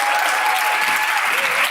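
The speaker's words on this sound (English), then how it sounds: "Let's give all a round of applause for Bryan Post." Audience applause for Bryan Post at a fireside chat event, a loud, dense burst of crowd clapping, close and sustained across the whole moment.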